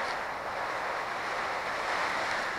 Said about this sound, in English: Oh, this is a bad storm.